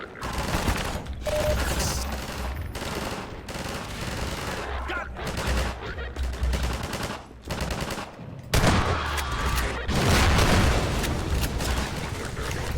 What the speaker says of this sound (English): I'm just gonna throw a grenade up here at this point